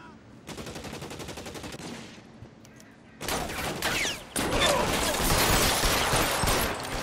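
Gunfire in a shootout with bank robbers in the L.A. Noire video game, with bursts of loud, rapid shots, a brief lull, then sustained heavy firing close up.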